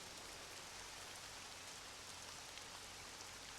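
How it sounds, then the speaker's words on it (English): Rain falling in the Access Denied video game, a steady, dense hiss of rain pattering on surfaces that runs at a constant soft level throughout, with no voices or other sounds. "You can still hear the rain everywhere."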